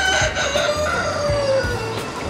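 A sick yellow Cochin rooster crows once in a drawn-out, fairly loud call over a steady low background hum, with no talking.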